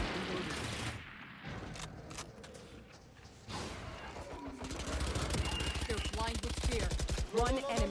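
Vandal rifle fire in Valorant, a rapid string of automatic shots growing steadier and louder toward the end, mixed with game effects and a person talking over it.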